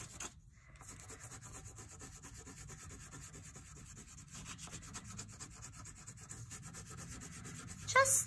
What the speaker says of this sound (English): And then I'm gonna use my crayon again. And I'm gonna color.